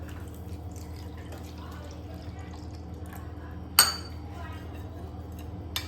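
A spoon stirs about one and a half spoonfuls of salt into water with soft, faint scraping, then gives a single sharp clink against the vessel before quiet stirring resumes.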